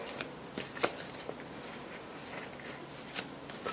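Tarot cards being shuffled by hand, giving soft papery riffles and a few sharper flicks and taps at close range, quiet and without any talk.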